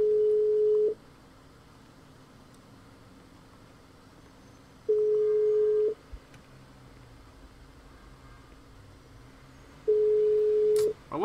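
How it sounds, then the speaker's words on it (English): A phone call that goes unanswered in GTA 5 produces three evenly spaced electronic ringback tones, each about a second long with roughly four seconds of quiet between them, heard faintly over light background noise. "What's up with these lame, goofy-ass motherfuckers not picking up their phone?"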